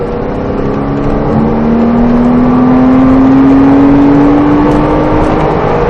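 A Porsche Cayman held at full throttle on a race track during a driving course, a loud continuous engine roar whose pitch climbs steadily as it pulls through the gear, heard from close by with no talking.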